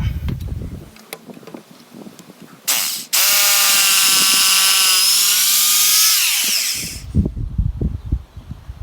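A hammer drill boring into masonry for a stud anchor while building a wheelchair access ramp, a loud, steady rattling whine for about four seconds after a short start, with clattering handling noises before and after.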